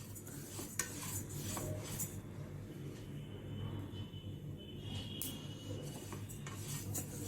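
A spoon stirs sesame seeds roasting in a pan for a sesame sweet, giving soft, steady scraping and rustling with a few light metallic clinks, faint and continuous, with no talk.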